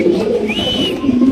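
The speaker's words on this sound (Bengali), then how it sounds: "মাশাআল্লাহ দেখেন খুব সুন্দর মাদিরা ভাই আল্লাহর রহমতে ক্রিমবার বিউটি মাদি কবুতর" Pigeons at a pigeon farm give soft, low cooing close by, a steady throaty murmur with a faint whistle-like note over it and no talking.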